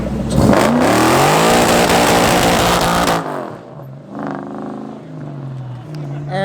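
A car doing a tire burnout, its engine revving hard and screaming loudly for about three seconds before dropping off, followed by people talking over the fading car noise.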